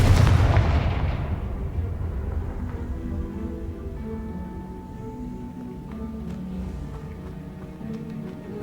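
Confringo blasting-spell explosions from Hogwarts Legacy burst with a heavy, close boom that rolls off into a long fading rumble, with faint tonal game effects lingering underneath.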